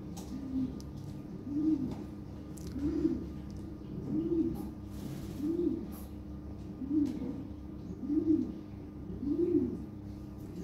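Lahori pigeons, an original bloodline pair, coo in a steady rhythm of about eight soft, rolling low calls, close by over a faint background hum.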